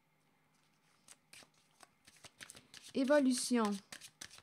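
Tarot cards being shuffled and drawn, giving soft, quick flicks and riffles close by, with a voice speaking briefly over the middle.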